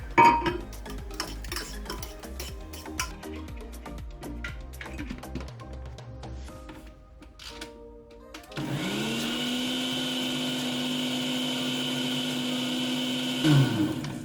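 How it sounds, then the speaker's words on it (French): Light clinks and taps of bowls and utensils come first, then a blender switches on and runs with a steady, loud motor whine while mixing a homemade hair mask. "Donc je vais tout mixer"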